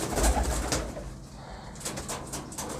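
A breeding pair of pigeons in a cage coo low and close, a short murmuring call under a faint clatter and background noise.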